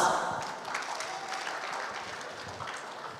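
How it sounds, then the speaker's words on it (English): An audience applauds the winners of the ASEAN Virtual Student Opinion Competition 2022 at an awarding ceremony, a steady, moderately faint patter of many hands clapping together for about three seconds with no talking. "Please give applause."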